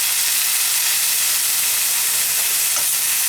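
Loud, steady sizzling hiss of water hitting a hot Helen Chen wok during stir frying, a continuous bright frying crackle with no talking.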